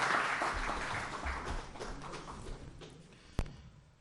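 At an award ceremony, the crowd applauds an honoree in a steady, moderately distant wash of clapping that slowly fades, ending with one sharp knock.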